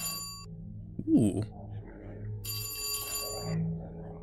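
A doorbell chimes inside a video game, a bright ringing tone with a second ring partway through, heard among game ambience and a brief growl-like sound.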